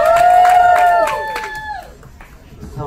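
A crowd on a cruise ship cheers and applauds a couple, with a loud sustained whoop and shouting over clapping that fades out after about a second and a half.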